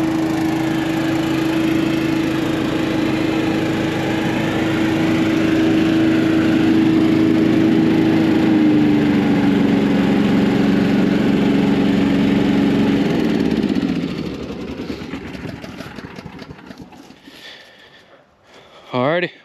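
A small gasoline engine on a leaf vacuum drones steadily at close range, then cuts out and sputters to a stop toward the end.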